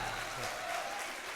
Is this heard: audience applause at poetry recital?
yes